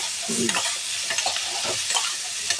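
A sweetened ridge gourd and potato curry is sautéed in a pan, making a soft, crackling sizzle punctuated by repeated stirring scrapes of a spatula, close and steady with no talking.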